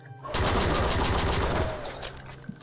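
An M1 plasma rifle fires in Project Brutality, a Doom mod, in a loud rapid stream of shots sustained for about two seconds after a sharp start, then trailing off.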